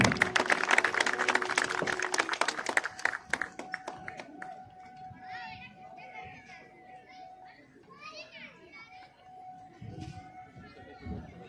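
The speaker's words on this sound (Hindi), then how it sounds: "जरा तालियां बजा के उत्साहवर्धन करते रहें" Crowd clapping at an Uttar Pradesh police passing out parade rattles loudly for the first few seconds, then dies away into a murmur of voices and children's chatter nearby.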